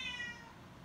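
A cat gives a single short, faint meow at the start, high and drawn-out, fading into quiet background hiss.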